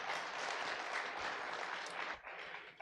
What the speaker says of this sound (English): Applause for all of us.